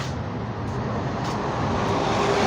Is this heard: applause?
no